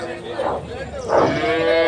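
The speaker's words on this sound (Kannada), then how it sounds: "ನೀವು ನೋಡ್ತಾ ಇರ್ಬೋದು ಸುಮಾರು ನೂರ ಐವತ್ತಕ್ಕೂ ಹೆಚ್ಚು ರಾಸುಗಳು ಈ ಒಂದು ಕಾರ್ಯಕ್ರಮದಲ್ಲಿ ಭಾಗವಹಿಸಿದವು" Cattle, including HF and Jersey calves, at a livestock show with over 150 entries: two drawn-out moos in quick succession, fairly close and clear over a faint background murmur.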